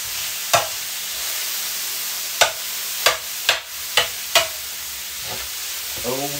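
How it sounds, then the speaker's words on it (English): Chili ingredients sizzle steadily in a new frying pan with a constant bright hiss. A spoon scrapes and stirs in sharp, separate strokes over the sizzle, and no one speaks. "Gotta hear more than just the sizzling."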